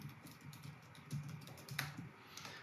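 Typing on a computer keyboard to enter text in a calendar event, a few soft irregular key taps, close and very quiet, alone.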